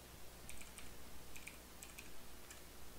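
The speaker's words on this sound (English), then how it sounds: "when you're typing things in, you just type it in." Commands are typed on a computer keyboard to launch an old DOS game, with soft, quiet clicking keystrokes in short irregular bursts over a steady background hiss and no speech.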